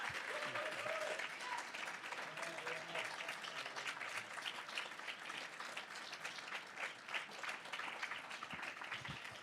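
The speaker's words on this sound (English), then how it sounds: "Big round of applause, please" Applause from the audience at a policy forum in Washington, D.C., a steady wash of many clapping hands heard from a distance, fairly quiet and continuous throughout.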